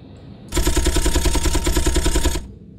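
Eight chain guns fire together on a ship in Space Engineers, a loud, rapid, even burst of shots lasting about two seconds before cutting off, with a low rumble beneath.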